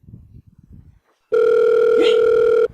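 A telephone in a film scene rings with a steady electronic tone after a short stretch of faint scuffling, loud and sustained for over a second before stopping.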